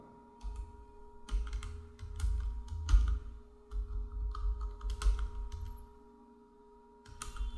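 Keys clatter on a computer keyboard during income tax return filing, quiet and close, in short bursts of quick taps separated by brief pauses, over a faint steady electrical hum.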